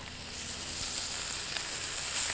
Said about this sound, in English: we're there going you to sear the outside of these steaks